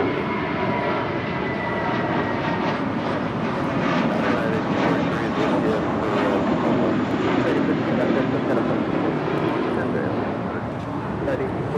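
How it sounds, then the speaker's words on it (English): American Airlines Airbus A321 jet departing Los Angeles International Airport, a loud, steady broadband engine roar holding throughout, with a voice talking faintly underneath. "This is American 32 departing to JFK on an A321."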